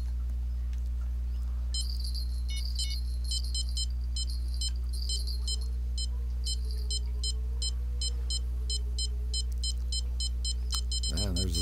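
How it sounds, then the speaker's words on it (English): Repeating electronic warning beeps in Fishing Planet, a severe thunderstorm alarm sounding in short rhythmic pulses from the town over a constant low hum of game ambience. "there's a severe thunderstorm warning alarms. Hear them going off in town."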